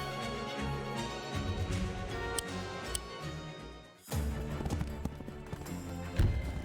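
Horse hooves clip-clop in the strategy game Wargroove, a steady rhythmic trot of hoofbeats layered over continuous game music, with a brief dip before the hooves resume.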